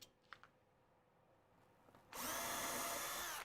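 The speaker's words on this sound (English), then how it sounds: "Drill some more holes." A power drill bores holes in wood, starting after a few light knocks and running loud and steady with a high whine for over a second.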